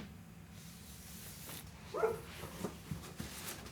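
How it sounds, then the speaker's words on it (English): Dogs bark outdoors at a distance, with one clearer bark followed by a few fainter yips over steady background noise. "We've got dogs out there now."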